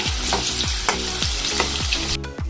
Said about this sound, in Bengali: দেখো পেঁয়াজগুলোকে দিয়ে দিলাম। লো টু মিডিয়াম ফ্লেমে ভাজবো।